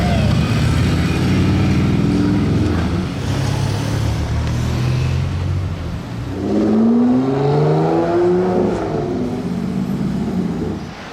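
Harley-Davidson motorcycles rolling past on a sunny Monaco street, a loud close engine rumble that swells, eases off and builds again as the bikes go by, with no voices.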